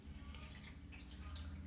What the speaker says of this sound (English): just put a little water at the bottom of this